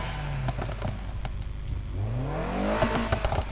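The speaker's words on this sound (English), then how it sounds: "But you can change the exhaust sounds as well." An engine with a throaty exhaust hums, then revs upward in a rising sweep, loud and close. From the video game Need for Speed Heat.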